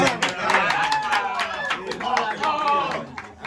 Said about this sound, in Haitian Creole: On applaudit non mais.